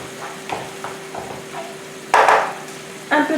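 Grated tomato hits a frying pan in a sudden loud sizzling burst after quieter scraping and stirring taps, followed by another short burst of hissing.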